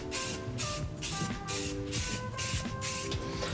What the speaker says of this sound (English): now I'm gonna spray paint it